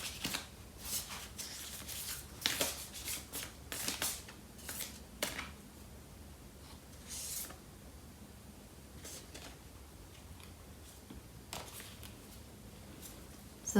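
Lover's Oracle tarot cards being shuffled by hand, a quiet, close run of soft papery riffles and slaps coming in uneven bursts over faint background hiss, without any talk.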